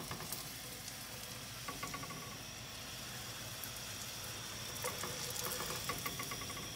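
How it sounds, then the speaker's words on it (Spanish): Tortillas frying in hot oil in a home kitchen for chicken bean enchiladas, a faint, steady sizzle with occasional crackling pops. "¿Ven cómo freímos las tortillitas?"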